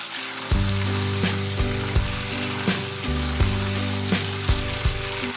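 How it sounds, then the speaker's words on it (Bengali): Vegetable stems, potato and eggplant sauté in hot oil in a pan for a Bata fish curry, giving a steady close sizzle with regular stirring pulses and no talking. "ডাঁটাগুলো 1-2 মিনিট সাঁতলে বাকি সবজিগুলোকেও দিয়ে দিচ্ছি।"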